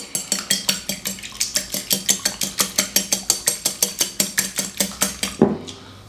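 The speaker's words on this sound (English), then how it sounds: "We want to whisk it up." An egg being whisked in a bowl for cast iron skillet macaroni and cheese, giving fast, even clinking strokes of whisk against the bowl, close and steady, about four per second, then a final clatter.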